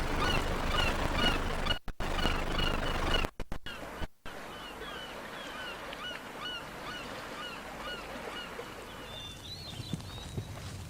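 Shorebirds and geese call on a newly fertile shore at Glacier Bay, a scattered chorus of honks and chirps over a steady wind-like hiss, fairly faint and with no voices.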